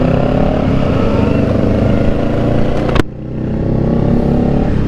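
A passing vehicle's exhaust on the Pacific Coast Highway gives a loud, steady engine rumble, with a sharp break partway through before the drone settles back in.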